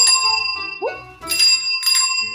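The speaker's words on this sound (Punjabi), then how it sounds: "ਦੇਖ ਲੈ ਸੁਰਖੀ ਦੇ ਬਾਈ ਕਿਵੇਂ ਟੱਲੀਆਂ ਵਜਾਉਂਦੇ ਆ ਨਾ ਹੁਣ ਸਾਈਕਲ ਕਿੱਥੋਂ ਖਰੀਦ ਲਿਆ" Bicycle bell rings in bright metallic bursts, three separate rings across the moment with short gaps, fairly close and clear, with no talk over them.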